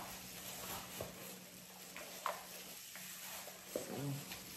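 Oxtails being mixed with garlic and marinade, heard as faint wet stirring and shuffling with a few sharper knocks, quiet and close, with low background hiss.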